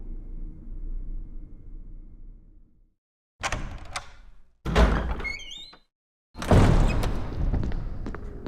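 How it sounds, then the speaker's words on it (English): Double doors opening in Resident Evil REmake's mansion, heard as three separate loud creaks and heavy thunks with short gaps between them, following a low ambient rumble, with no talking. "What we're gonna do is go straight across and go into the double doors."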